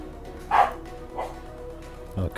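A dog barks a few times indoors during a live stream, sharp yips spaced out with quiet pauses between them.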